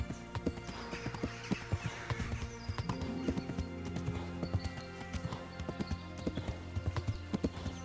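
Horse hooves clip-clopping steadily along a road in Kingdom Come Deliverance, a rhythmic run of close, distinct hoof strikes over a low ambient game background, with no talking.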